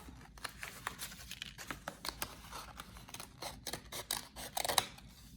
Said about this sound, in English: I'm going to just trim just a little bit more so it looks more like an oval.